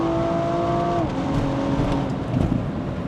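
A BMW M135i with the N55 engine and a stage 2 upgrade accelerates hard toward 7000 RPM, a loud continuous engine roar heard from inside the car, pitch climbing, then briefly dropping at a gear change before rising again.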